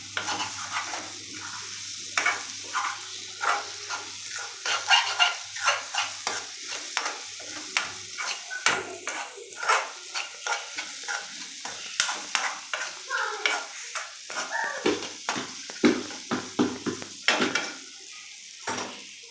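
Eggs fry in a pan while being stirred, with repeated scraping and clinking strokes of a utensil over a steady sizzle, close and clear with no talking.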